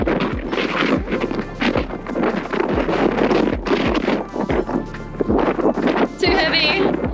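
Strong wind gusts buffet the microphone outdoors in Kakadu National Park, Northern Territory, a loud continuous roar with low rumbling bursts throughout, under intermittent talking.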